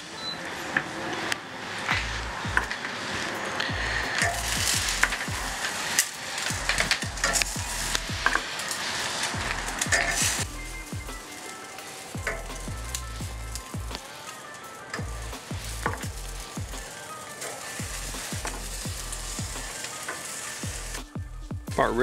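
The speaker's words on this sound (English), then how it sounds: "it's time to put these wings on the grill and crisp up the skin" Chicken wings sizzling and crackling on a hot Masterbuilt grill, a steady close frying hiss with sharp pops and clicks scattered throughout, no talking.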